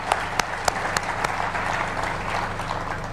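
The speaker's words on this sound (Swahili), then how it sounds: "Tuwapigie makofi jameni." A large audience at a presidential awards event for educational institutions breaks into sustained applause, a dense, even wash of clapping with a few sharp nearby claps standing out.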